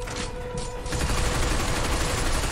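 Sustained automatic gunfire rattles nonstop as robots are shot down in the video game Binary Domain, a dense, loud fusillade that swells after the first second and carries on without a break.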